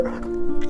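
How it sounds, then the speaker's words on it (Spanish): A dog, Noy, gives a brief strained yelp with a tonal whine, trying to bark in a short burst close to the microphone. "Noy, que se le había adelantado, trató de ladrar"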